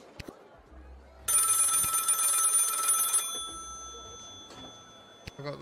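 A telephone rings in a video game, a bright sustained electronic bell lasting about two seconds, loud and alone, with faint low thumps before and after.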